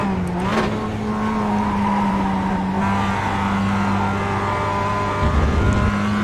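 A Mazda race car in the iRacing simulator at Watkins Glen drones steadily with a sustained engine note, shifting pitch slightly as it accelerates, heard up close with no talking.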